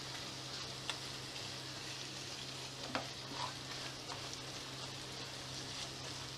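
Tawa pulao is stirred and mixed in a pan with a faint, steady sizzle and a few light scrapes and taps of the spoon, quiet and close.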